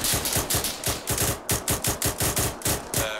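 Rapid gunfire in the video game ArmA 3, a fast, loud, evenly spaced string of shots rattling like a machine gun for several seconds, no talking over it.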